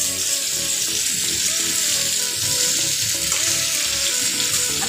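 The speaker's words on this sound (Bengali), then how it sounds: "আর একটু এভাবে ছড়িয়ে দিচ্ছি যাতে সবগুলো সবজি সুন্দরভাবে ভাজা হয়। আমি গ্যাসের ফ্লেমটা হাইতেই রেখেছি" Vegetables fry on a high gas flame, a steady loud sizzle and crackle with faint stirring scrapes throughout and no voices.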